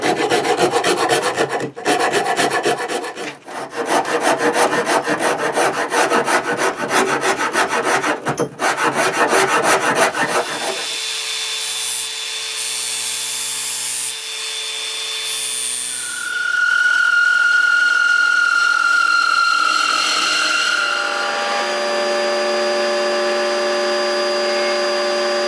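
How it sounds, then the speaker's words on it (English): A wooden guitar body of maple with black veneer and purpleheart has a small neck pocket drilled and routed: loud steady grinding and rasping of the cutter in wood, then a router's sustained whine rising and falling. "we drilled down a very small bit and routed out a very small neck pocket there"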